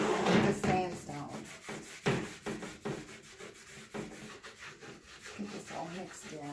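Rag rubbing sandstone-and-gray stain into a rustic wooden picture frame, giving a soft, steady scrubbing with repeated strokes, close and quiet.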